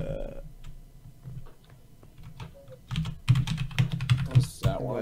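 Fingers type on a computer keyboard during a Minecraft session. Quiet scattered clicks build into a dense, close run of rapid keystrokes, with a brief tonal sound at the start.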